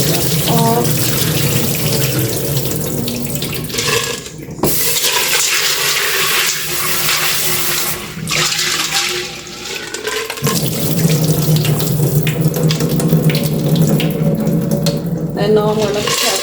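Water running steadily from a kitchen tap into a pot or sink while peas are washed for Jamaican rice and peas, a continuous rushing splash with brief breaks and shifts as the stream is moved.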